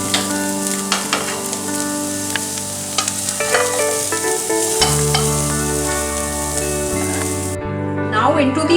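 Vegetables for pasta fry and get stirred in a pan, a bright sizzle broken by scraping spoon strokes, with music playing underneath throughout.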